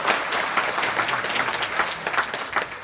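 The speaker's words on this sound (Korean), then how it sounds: "큰 박수 부탁드립니다." Audience applause at a political party members' meeting, a moderately distant crowd clapping in a steady patter with rhythmic surges throughout the short stretch.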